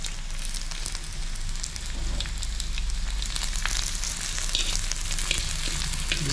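Crispy fried food sizzling in hot oil, a steady dense crackle with small pops throughout, continuous and fairly close, with no talk.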